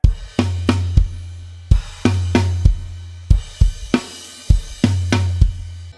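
Rock drum kit playing an outro groove, with sharp hits and crashes in repeating bar-length phrases, sustained low ringing between strokes, close and loud with no talking.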